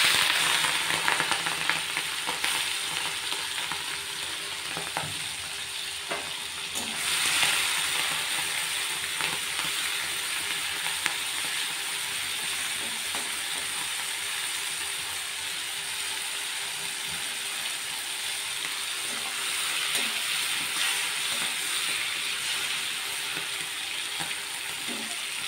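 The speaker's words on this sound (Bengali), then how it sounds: "এখন আমি এর মধ্যে নুন হলুদ মাখানো চিংড়ি মাছগুলো দিয়ে ভেজে নেব।" Prawns coated in salt and turmeric fry in hot oil, giving a steady, continuous sizzling hiss with occasional light clicks, close and unbroken.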